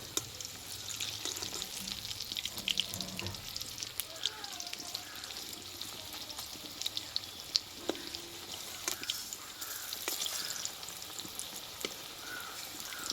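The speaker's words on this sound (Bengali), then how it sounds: "এই পকোড়াগুলো কিন্তু এক পিট ভাজা হয়ে গেছে আমি এবার উল্টিয়ে নেব" Pakoras fry in hot oil with a steady, bright sizzle and occasional crackles, faint metallic scrapes as the pieces are turned, and low background sounds underneath.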